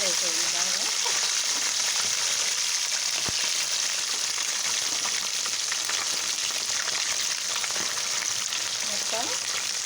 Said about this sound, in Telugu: ఇప్పుడు ఉడికించుకున్న చికెన్ ముక్కలు వేసి వేయించుకోవాలి